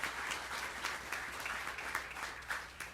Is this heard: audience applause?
yes